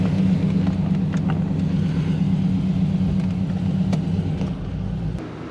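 A tuned 1996 Chevrolet Impala SS with a 6.0 engine, stage 4 cam and 3800 stall converter runs with a steady, loud low rumble while driving, easing off slightly near the end.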